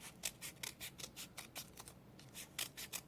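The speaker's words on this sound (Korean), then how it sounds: "정말 얇게 대각선으로 잘라주세요" Scissors making thin diagonal cuts through black paper for the wings of an origami paper robot: a quick, even run of about a dozen crisp snips close by, with a short pause partway through.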